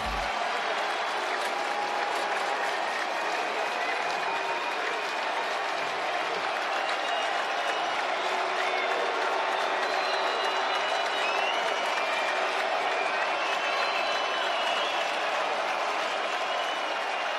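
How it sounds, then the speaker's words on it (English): A large college football stadium crowd in DeKalb roars and cheers continuously, a dense, loud wash of voices with scattered whistles throughout. "Loud as this crowd has been all afternoon now."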